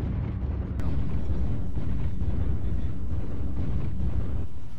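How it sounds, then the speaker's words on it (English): In MechWarrior Online, an artillery strike erupts in a deep, rumbling barrage of explosions that swells suddenly and then roars on continuously, loud and low, with no talk over it. "Artillery strike online"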